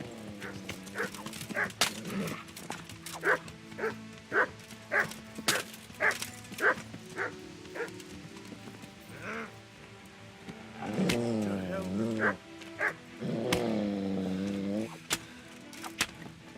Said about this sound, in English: Fucking little dogs.